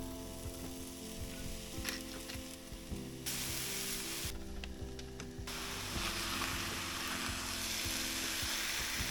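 Onion, cabbage and bell pepper sautéing in a pan, a continuous close sizzle with faint scraping of stirring, holding steady and growing slightly louder toward the end.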